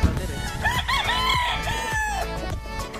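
A rooster crows once up close, loud and clear, its call rising and then trailing off over a low farmyard background.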